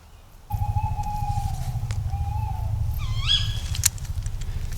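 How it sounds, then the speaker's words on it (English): A loud female tawny owl call in an ancient forest rises sharply with bright harmonics near the end, after a long steady whistle-like tone, over a constant low rumbling background. "That's the female tawny. She's very loud, isn't she?"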